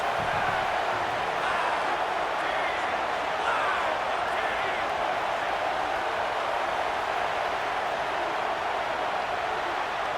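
A loud, steady roar of a stadium crowd in a college football video game fills the whole stretch, a continuous wash of distant cheering and noise without pauses.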